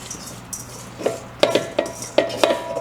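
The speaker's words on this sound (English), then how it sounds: "we're going to add our washed rice to the pot" Washed rice poured into a pot of liquid simmering near a boil for Jamaican rice and peas: a run of close metallic clinks and scrapes, about six spaced knocks of utensil or pot over a faint bubbling background.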